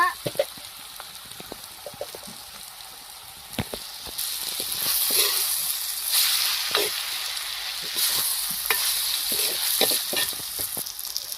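Tomatoes tossed into a pan of frying chicken roast set off a steady, loud sizzle, with scattered scraping and clicking from stirring and a rising hiss toward the end; no voices.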